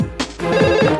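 A mobile phone rings with a short, bright electronic melody that starts with a brief tone and then swells into a louder chiming phrase.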